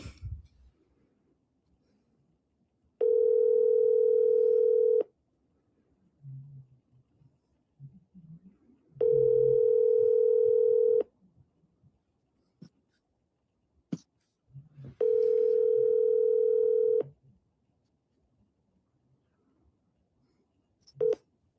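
Ringback tone of an unanswered phone call: three steady two-second rings spaced evenly apart, clear and alone against near silence with faint handling noises between them.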